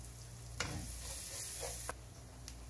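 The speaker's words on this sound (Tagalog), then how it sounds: "ilagay na natin ang bawang" Garlic sizzles and fries in a pan, a steady crackling hiss broken by a few sharp stirring scrapes and knocks, with no voices.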